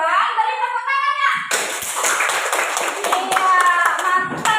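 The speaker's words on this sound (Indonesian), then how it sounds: "Untuk kelompok 1 karena sudah selesai duluan, beri tepuk tangannya." Students in a classroom give a round of applause to a group that finished first, scattered clapping that starts after a teacher's voice and continues under children's chatter.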